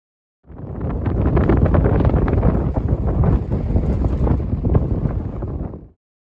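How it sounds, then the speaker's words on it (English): Strong wind buffets a microphone on a mountain summit, a loud, continuous rumbling roar with gusty surges lasting about five seconds. "The wind was blowing much too hard to talk into the microphone anyway"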